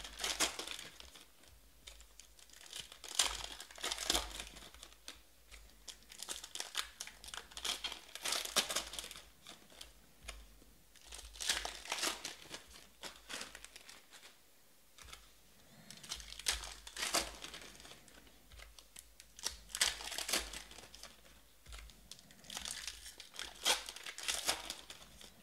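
Foil packs of 2019 Panini Donruss Optic football trading cards being torn open, repeated close crinkling and ripping bursts in uneven clusters throughout, loud and with no talk over them.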